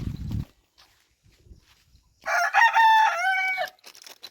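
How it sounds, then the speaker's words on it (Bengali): Desi chickens in a coop: a brief low cluck at the start, quiet gap with faint scratching, then a loud, clear rooster crow lasting over a second, close by. "এটার মধ্যে মূলত আমি দেশি মুরগি পালন করি।"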